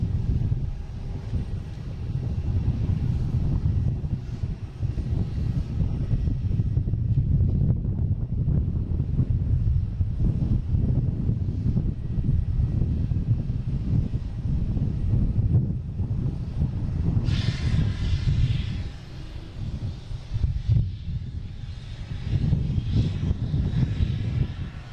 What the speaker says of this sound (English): Next coming in, we have a JetBlue from Pittsburgh, an A220.